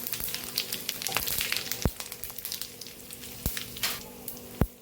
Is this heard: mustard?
yes